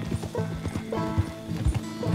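Horse galloping in Red Dead Redemption 2, a rapid, steady clip-clop of hooves close by, with a brief whinny-like tone mixed in.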